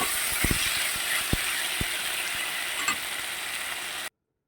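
Frying in a pan for a river chela fish curry gives a close, steady sizzle with a few sharp stirring knocks early on, then cuts to silence near the end.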